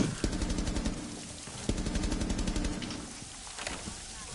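Rapid automatic gunfire from the tactical shooter game Rainbow Six Siege rattles in dense bursts with a few heavier shots standing out, close and loud throughout with no clear talk.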